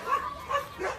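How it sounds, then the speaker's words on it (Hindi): Dogs bark around a person on foot: three short, yelping barks at a moderate distance, evenly spaced over a faint background, with no talking. "जहाँ भी जाओ उनके कुत्ते भौंकने से कर देते हैं"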